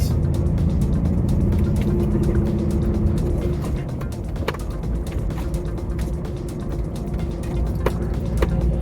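A lorry engine drones steadily in the cab as the truck pulls away, a low rumble with a change in pitch around a gear shift, plus light clicks and rattles; no one talks.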